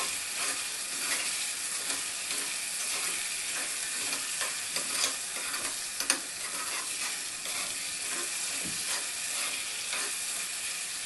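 Asafoetida and soaked moong dal tossed into a hot tempering for a radish salad, giving a steady, dense sizzle with frequent stirring scrapes and a few sharper ticks throughout, no voices.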